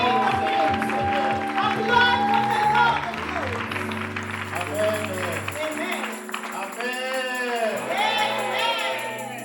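A congregation at a church convention applauds and cheers loudly, a dense crowd roar with shouts and whoops that swells and eases over about ten seconds while a preacher's voice speaks over the noise.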